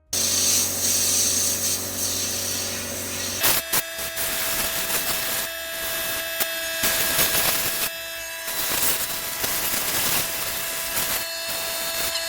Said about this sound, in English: So step number 6, use compressed air.